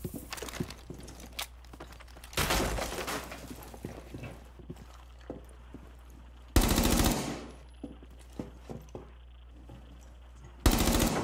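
Bursts of rapid machine gun fire ring out in three loud volleys, separated by quieter stretches of distant shots and clatter.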